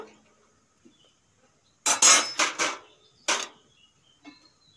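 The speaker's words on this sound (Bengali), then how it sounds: "এইভাবে এখন বাটিগুলো আমি বসিয়ে দেব।" Oiled steel bowls for steamed semolina idli set down one after another, a cluster of bright clinks and knocks followed by a single separate clack, close and crisp in a quiet kitchen.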